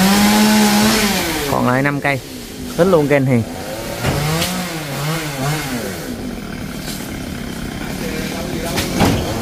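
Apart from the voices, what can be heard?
chainsaw cutting coconut trees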